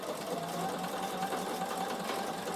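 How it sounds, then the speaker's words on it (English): A Bernina sewing machine runs a continuous, even whir as it stitches a decorative pattern on fabric, its motor humming steadily and alone at moderate volume. "it will stitch 2 patterns and stop"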